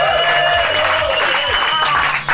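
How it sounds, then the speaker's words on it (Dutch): A crowd at a live DJ set in Den Haag cheers and applauds for the DJ, dense clapping under loud music with a tonal voice sliding through it. "Geef me even applaus,"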